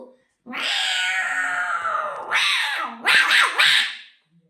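A boy vocally imitates fighting cats, producing a long wailing yowl followed by shorter, sharper snarling cries in quick succession, loud and close with no other sounds.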